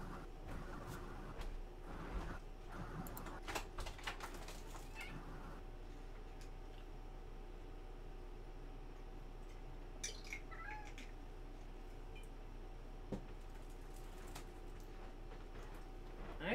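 House cat meowing beside a gaming setup during a PS1 Crash Bandicoot session, several short meows in the first few seconds over steady low electrical hum, then quieter faint sounds, close to the microphone.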